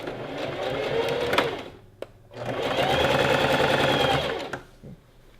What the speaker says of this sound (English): we're just going to sew this part down